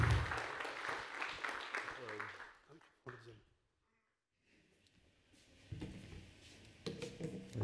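Applause from a conference audience greeting the speaker at a talk on the brain, a dense burst of clapping that fades into a brief hush before a voice begins speaking and room noise returns.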